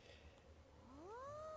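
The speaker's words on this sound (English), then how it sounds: "Kitty cats everywhere!" A cat meows in the video game World of Final Fantasy Maxima: one drawn-out, rising meow, fairly clear over a quiet background.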